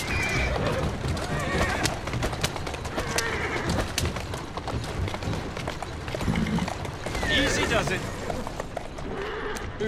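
Horse in the Assassin's Creed Syndicate video game whinnies and neighs repeatedly with clip-clopping hooves running underneath, fairly loud and close, while someone talks over much of it.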